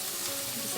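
Carrots sautéing in a pan, a steady close sizzle and frying hiss with faint stirring, no talk, lasting under a second.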